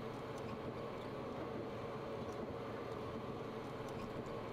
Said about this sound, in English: Oh, another four-car train.